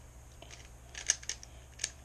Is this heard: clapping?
no